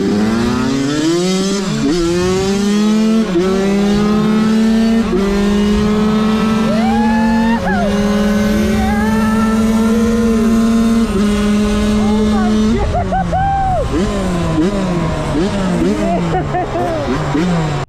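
An RM dirt bike engine revs hard and loud with rising and falling pitch sweeps, held at high revs for several seconds, then blips through a series of quick throttle stabs.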